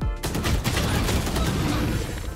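Rapid bursts of gunfire from a Valorant match, dense and loud throughout, fired without pause and with no voices over it.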